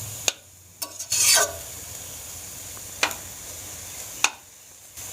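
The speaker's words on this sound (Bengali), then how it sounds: "চারিদিকে নেড়ে চেড়ে ভাজা ভাজা করব।" Radish greens stir-fry in oil over medium heat, with a few sharp spatula scrapes and taps against the pan over a faint, quiet sizzle.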